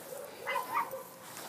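Near a gate, a dog gives two short, soft yips or whimpering barks in quick succession, fairly close but not loud.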